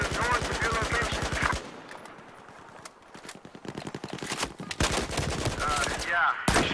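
Rapid automatic gunfire from a multiplayer Battlefield 4 match rattles in loud bursts, opening with a long sustained stream, then scattered distant shots and clatter, before another heavy volley closes it; no one speaks.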